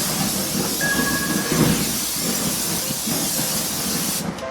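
Jalapenos and onions cook on a stove for fajitas in a continuous, even sizzling hiss. It is fairly loud and close, with no voices over it.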